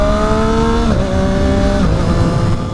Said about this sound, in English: Downshifting all the way to first, launching from first.